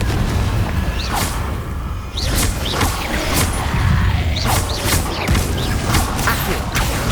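A run of loud, sharp spell blasts and impacts from the Confringo fire spell in Hogwarts Legacy, repeating every second or so, close and mechanical-sounding, with no one talking.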